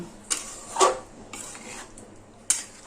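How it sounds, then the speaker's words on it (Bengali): Chicken stirred in a pan with salt and turmeric: a spoon scrapes and clinks against the pan in a few sharp, close knocks separated by quieter rustling stirs. "নুন আর হলুদ খুব ভালোভাবে মিশিয়ে দিলাম"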